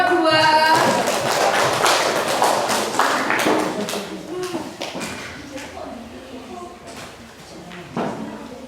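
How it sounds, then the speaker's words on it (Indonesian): A classroom group applauds the second presenting group after a physics presentation on mechanical waves, a steady wash of clapping that is loud at first and gradually thins out, close by, with a voice talking over it. "beri tepuk tangan untuk kelompok 2"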